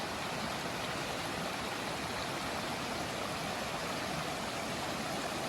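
Storm runoff water pours off the edge of a hill, a steady, broadband rushing wash heard at a distance with no other sounds standing out.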